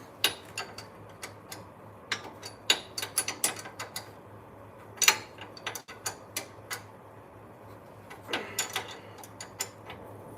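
A ratchet wrench tightens a bolt while a race vehicle is prepped, giving a string of sharp, close clicks in quick bursts with short pauses between.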